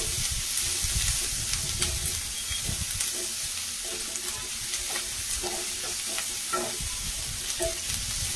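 Onions frying in a kadai for kadai paneer, a steady close sizzle with intermittent stirring scrapes and soft clinks over about eight seconds, no speech.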